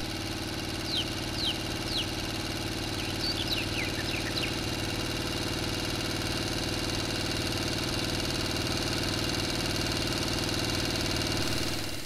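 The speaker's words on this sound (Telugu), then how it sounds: "పడవ దీవికి చేరుకుంటుంది." A boat engine idles and chugs steadily as the boat nears an island in a Telugu horror audio story, a constant mid-pitched motor drone with a few faint chirps at the start and no talking.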